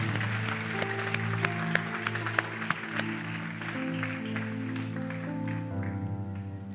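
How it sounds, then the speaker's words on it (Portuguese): Congregation clapping in a church service, a sustained wash of applause over sustained music and held tones, with a few sharper individual claps standing out before the sound thins toward the end. "Você pode aplaudir ao Senhor?"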